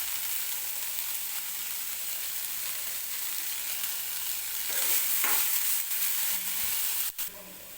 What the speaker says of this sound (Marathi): कणीस जे आहेत ते व्यवस्थित आपल्याला भाजून घ्यायचे आहेत.